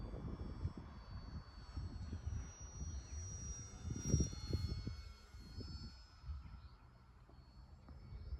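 A Park Flite Cessna 182 model airplane flies overhead, its motor giving a steady, faint, thin drone with slight swells in pitch and loudness throughout.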